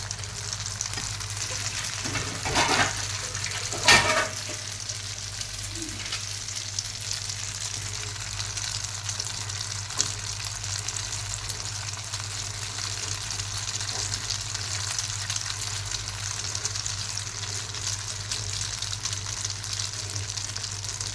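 An egg with mustard flowers fries in hot oil in a frying pan, a steady close sizzle running throughout, broken by a couple of brief clattering knocks early on, with no one speaking.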